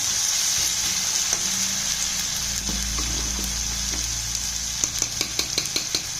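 Tomatoes sauté in a pan for yam tamarind curry, a continuous loud sizzle with a few sharp taps of a spatula toward the end.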